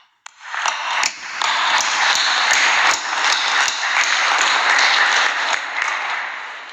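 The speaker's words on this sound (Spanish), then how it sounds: "un aplauso para ellos." A crowd bursts into sustained applause for Mexican athletes, a dense wash of many hands clapping that swells quickly and holds strong for several seconds, with a few louder individual claps standing out near the front.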